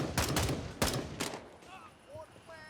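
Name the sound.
gunshots in video game Gray Zone Warfare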